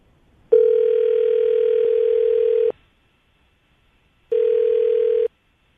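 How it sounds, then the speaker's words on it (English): A telephone line gives off a loud, steady electronic tone. It sounds in one long stretch of about two seconds, then, after a pause, in a second shorter burst, clean and close with no voices. "We're going to call her right now, get her on the phone"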